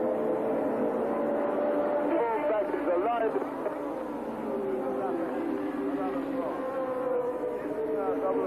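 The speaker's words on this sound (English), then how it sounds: "Number 28 in the V6 turbocharged 600 horsepower Ferrari, Didier Pironi, going up place after place" A 1982 Ferrari V6 turbocharged 600 horsepower Formula 1 race car at the South African Grand Prix, a distant buzzing engine whine rising and falling as it moves, under continuous commentary.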